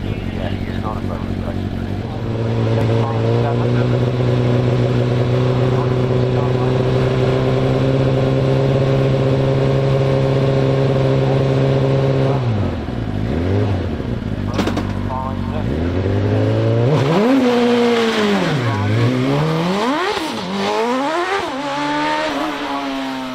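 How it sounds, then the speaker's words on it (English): A small 1-litre race car charges up a hillclimb course, its engine note rising steadily through a long loud pull, then dropping and surging again through gear changes and bends, with a commentator talking over it. "young Tom Weaver from Ludlow in this little 1 litre car"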